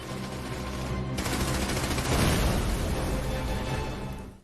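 Heavy gunfire and explosive bursts ring out during an assault on a German machine-gun nest, a dense, continuous barrage that swells louder midway and carries on without any voices.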